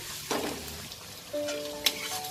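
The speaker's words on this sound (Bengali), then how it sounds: "এবার এটাকে আমি ততক্ষণ ভাজবো যতক্ষণ না রসুনের কাঁচা গন্ধটা চলে যাবে" Crushed garlic frying in oil for a Bengali mutton curry, a steady close sizzle with a few brief stirring clatters and a sharp scrape near the end.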